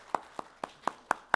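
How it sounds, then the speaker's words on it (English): During a workplace summit session, the audience claps in a slow, evenly spaced rhythm, with six distinct crisp claps at a moderate distance and no talking over them. "I'm gonna do the clap again."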